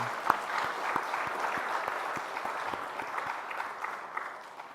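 A church congregation claps for a baby girl's first birthday blessing during Sunday worship, a dense, steady round of applause with a few sharp individual claps standing out, fading slightly at the end.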